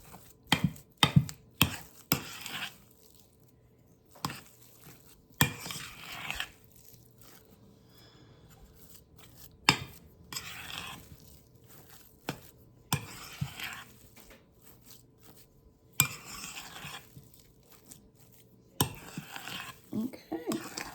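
Potato cake mixture being stirred in a bowl, heard as irregular scraping and clinking strokes of a utensil against the bowl, coming in bursts with pauses, fairly close and moderately loud.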